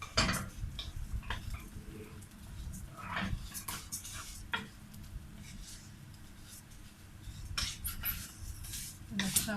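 A utensil scrapes and clinks against a pot as rice with vermicelli is stir-fried, giving faint, irregular scraping strokes and light taps over a quiet sizzle.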